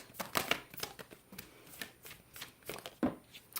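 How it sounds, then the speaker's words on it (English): Oracle cards being shuffled by hand, a series of soft, papery riffles and slides in irregular bursts, close and quiet with brief pauses between. "These cards, bear with me because these are a little difficult to shuffle"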